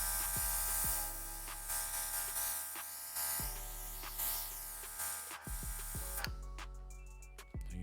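An airbrush sprays a fine mist in steady hissing bursts, several short stop-start sprays alternating with a whining compressor-like tone, close and fairly quiet.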